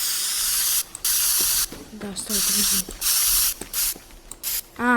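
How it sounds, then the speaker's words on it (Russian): Spray paint can hissing in a video game, in several short bursts of steady hiss separated by brief gaps, close and loud, with a voice speaking briefly between sprays. "Это баллончик с краской."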